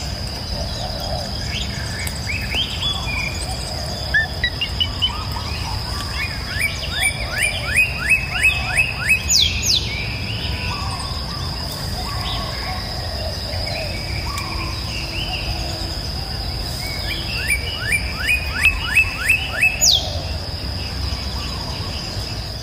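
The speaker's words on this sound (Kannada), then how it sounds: "ಹೌದು ಚಿರು, ಎಷ್ಟು ಕಲರ್ಫುಲ್ ಬರ್ಡ್ಸ್ಗಳಿದ್ದಾವೆ." Birds chirp at Mysore Zoo in two quick rising bursts of calls over a constant shrill insect buzz and steady outdoor background.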